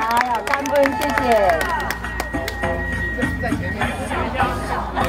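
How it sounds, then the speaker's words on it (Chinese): Applause for a bride and groom at a wedding procession during a calla lily festival in Taoyuan, scattered claps running throughout a busy outdoor crowd with voices chattering over them. "来掌声帮我们赞助一下"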